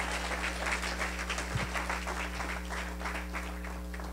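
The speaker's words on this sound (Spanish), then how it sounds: "Fuerte ese aplauso al Señor," A church congregation applauds in praise during a Spanish-language sermon, a steady round of clapping over a constant low electrical hum, with a few louder thumps.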